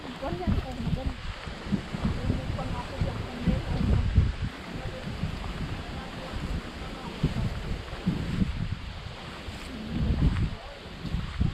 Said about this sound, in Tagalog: Uy, kalakas ang hangin.